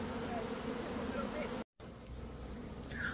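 A honeybee swarm buzzing in a steady, dense hum outdoors, briefly cut to silence midway before the drone resumes at a similar level.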